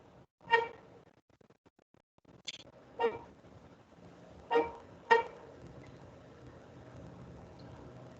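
A popcorn vendor's car passing outside in the street, sounding several short horn toots spaced a second or two apart, heard at a moderate distance over a quiet indoor background.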